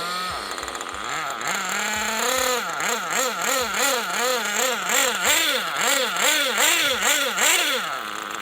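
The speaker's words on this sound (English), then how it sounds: "now we've got the motor started and it's idling nicely" A small high-pitched nitro engine, a Bullitt F-225 during break-in, starts with a few sputters, then idles steadily with a warbling, slightly wavering buzz, loud and close.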